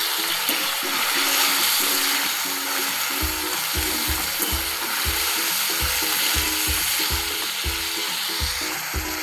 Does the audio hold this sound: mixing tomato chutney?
yes